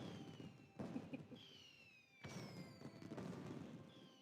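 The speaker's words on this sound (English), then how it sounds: "we'll set off some fireworks. Little in-game gimmick." Fireworks set off in the video game Skylanders: Spyro's Adventure: scattered booming bursts and whistling, descending streaks of sound over a busy game backdrop, with two main clusters of blasts.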